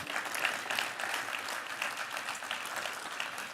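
Audience applause for speaker Angela at a conference plenary session, steady moderately distant clapping from a large hall that continues evenly throughout.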